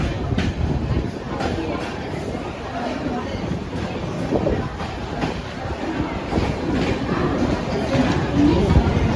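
A loud, continuous rumble of a moving train fills a crowded railway station at Dadar, with crowd chatter and voices mixed throughout the busy surroundings.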